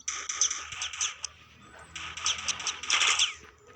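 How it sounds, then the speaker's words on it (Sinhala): Gunfire crackles in short bursts through a shooting video game, rapid clicky shots clustered near the start and again louder toward the end, with no voices. "ඉන්න මම එයාලට වෙඩි තියන්න."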